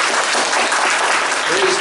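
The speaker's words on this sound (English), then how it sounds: "Can we give him a hand clap?" Church congregation clapping their hands during a morning service, a dense steady wash of applause filling the room, with a voice briefly showing through near the end.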